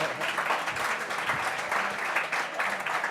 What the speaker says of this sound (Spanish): Te apoyan, ¿eh? Con aplausos.